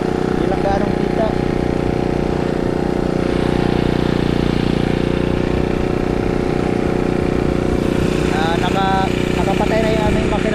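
A generator running aboard a fishing boat, a steady mid-pitched engine drone with a constant hum, while someone talks over it throughout.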